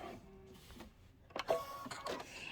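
Home sewing machine stitching in reverse for about ten stitches while quilting, a quiet mechanical whirr at low level with a brief louder burst near the middle.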